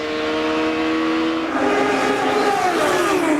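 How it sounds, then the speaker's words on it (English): A 2004 IndyCar engine at Richmond International Raceway rises steadily in a loud, sustained whine as the car accelerates out of a turn, with no talk over it. "You can hear how gingerly he gets back on the throttle coming out of the turns."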